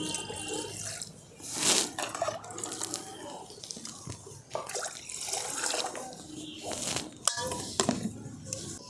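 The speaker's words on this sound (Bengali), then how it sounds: "কড়াতে দিয়ে দিয়েছি 2 বাটি জল।" Water from a bowl splashing into an iron wok set on a lit stove, a few pours and sloshes mixed with clinks of utensils, fairly close and moderately quiet.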